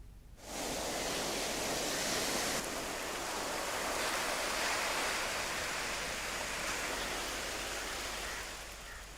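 Rough sea surf pounds Periyambalam beach in Thrissur during heavy rain and a coastal surge, making a continuous loud roaring wash that holds steady and fades slightly near the end.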